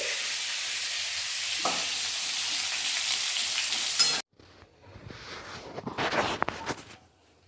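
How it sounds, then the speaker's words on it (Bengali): Potatoes, broad beans and mixed vegetables fry in a pan, a steady loud sizzle that cuts off abruptly midway, then returns as softer crackling and stirring noises, with no talking. "ঝোলের জন্য আলু, সিম, এটা ওটা সব ভেজে নিচ্ছি সবজি"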